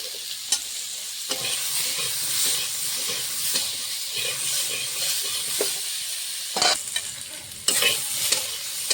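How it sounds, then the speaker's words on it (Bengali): Potato pieces stir-fried gently in a pan with a little salt and turmeric, with a steady soft sizzle throughout and occasional scraping stirs and clatter from the utensil. "হালকা করে আলুটা ভেজে দিই"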